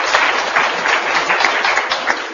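An audience claps in welcome for a mayor at a Turkish local gathering, with brisk, moderately loud applause filling the short moment.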